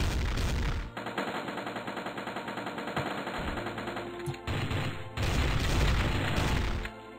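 Rapid bursts of automatic gunfire in the video game Strike Force Heroes, loud and sustained with short pauses between volleys, no talking.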